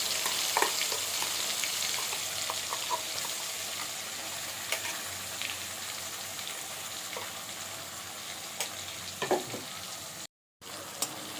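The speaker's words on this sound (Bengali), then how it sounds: "এই যে মশলা যে পেস্ট করে রেখেছিলাম এটা তেলের ওপরে দিয়ে দেবো" Spice paste frying in hot oil, a steady fine sizzle with scattered crackles and pops, close and moderately loud, stirred now and then, with one brief silent gap near the end.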